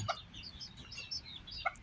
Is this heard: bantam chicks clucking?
yes